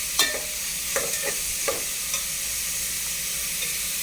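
Mustard seeds, curry leaves and onion fry in hot oil for a red bean curry, a steady close sizzle broken by several soft stirring scrapes, with no talking.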